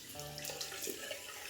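A few drops of water trickle and splash into a shaving bowl of lather, a brief, close, soft running-water sound lasting a moment.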